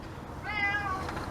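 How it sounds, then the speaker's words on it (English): A cat gives a single drawn-out meow with a rising then falling pitch, close by and fairly clear over a low background rumble. "there's a cat that likes to meow, wants attention"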